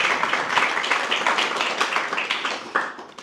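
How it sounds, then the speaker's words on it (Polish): An audience claps for a guest at a small Polish café talk event, dense, steady applause filling the room for about three seconds with a brief louder burst near the end. "Brawa, wielkie brawa dla ciebie."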